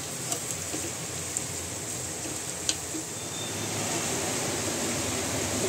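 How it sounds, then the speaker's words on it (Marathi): Heavy rain pours steadily outdoors, a dense continuous wash of drops with a few sharper drips standing out, growing slightly louder toward the end; no voices. "एवढा जोरदार पाऊस आहे."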